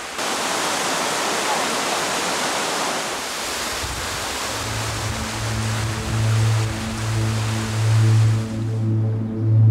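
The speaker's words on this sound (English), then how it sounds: "Piping hot waterfalls that have flowed through the cliffs of Jermuk" Hot waterfalls pour through the cliffs of Jermuk, Armenia: a dense, steady roar of rushing water heard alone at first, then joined by a soft musical melody halfway through.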